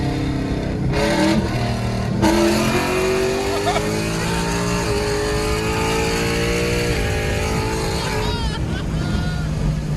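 A procharged 850hp Ford Mustang 5.0 with long tube headers and straight pipes accelerating hard, a loud rising engine roar with gear changes and a downshift, heard from inside the car with someone talking over it.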